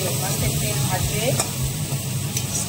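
Fish oil, the fatty roe of a fish, frying in a pan in a home kitchen, a loud close sizzle and crackle running throughout with occasional stirring scrapes, no clear talk.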